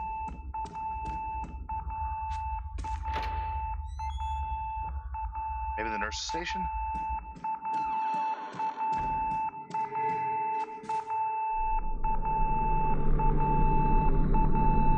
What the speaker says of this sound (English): That sounds like a fire alarm, right?